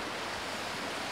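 Surf at Kelambu beach in Kudat, Sabah, a constant broad wash of waves that fills the scene evenly without any distinct breaks.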